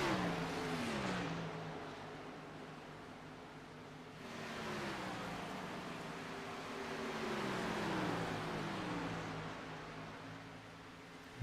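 A stock car engine in a sim racing game hums along at moderate distance as a car rolls off pit road at Kansas, a smooth, fairly quiet drone that rises and falls in pitch with no speech over it.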